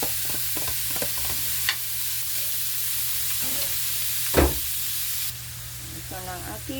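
Ground meat (giniling) sizzles steadily in a pan while being stirred, with scraping strokes and a few louder clatters of the utensil, close and fairly quiet, without speech.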